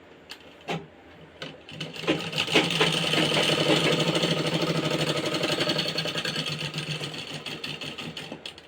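A sewing machine stitches joined fabric panels of a Patiala salwar, starting with a few short taps and then running in one long, steady, rapid mechanical whir at close range, without speech.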